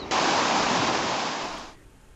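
A wild mountain river on the route to Gomukh, heard as a loud, dense rush of water that starts abruptly, stays steady for over a second, then fades away.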